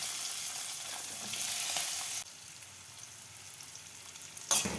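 Onion, curry leaves and coriander frying in hot oil for a curry, a soft continuous sizzle and crackle close by that drops lower partway through, with a short clatter at the end.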